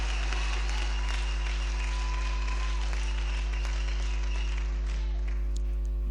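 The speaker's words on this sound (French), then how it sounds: "Jésus mérite nos acclamations ce soir." A church congregation applauds and cheers in acclamation during an evening prayer service, a distant, roomy wash of clapping and voices beneath a strong steady hum and sustained tones, fading slightly toward the end.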